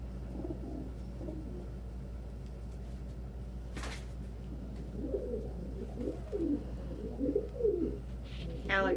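Soft, low cooing from birds, growing more frequent toward the end, over a quiet hum with one brief scraping knock in the middle.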